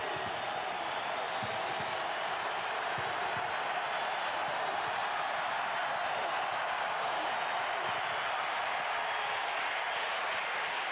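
A huge football stadium crowd at the 2003 Alabama vs Ole Miss game roars in a dense, sustained wall of noise, loud and unbroken throughout.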